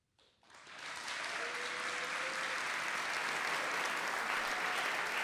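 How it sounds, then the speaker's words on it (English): Audience applause for the interim men's volleyball coaching staff at an awards event, rising quickly into a dense, steady round of clapping that fills the room and carries on without a break. "let's first give a round of applause to the interim men's volleyball coaching staff from the last season."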